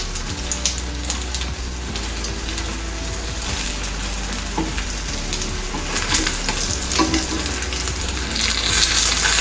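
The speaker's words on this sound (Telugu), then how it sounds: "ఇలా కొంచెం ఫ్రై అయిన తర్వాత దీన్ని తిప్పుకోవాలి." Crispy Chamaaku Potlalu fry steadily in a pan, a dense, continuous sizzle running the whole time, with soft stirring and the odd scrape rising briefly over it; no one speaks.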